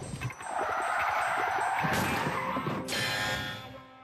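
A car's tires skid and squeal under hard braking on a driving-test course, a sustained loud screech lasting a few seconds with engine noise underneath, no talking.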